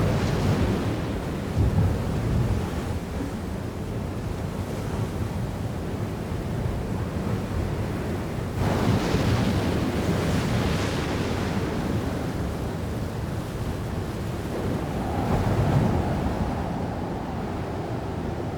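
Huge ocean waves pound a sub-Antarctic island under strong wind, a continuous loud roar of surf with heavier swells surging every few seconds.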